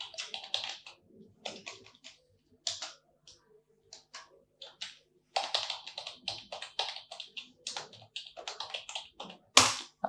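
Close, crisp typing on a computer keyboard in quick irregular bursts of clicks with brief pauses, ending on a sharper loud keystroke, with no voices.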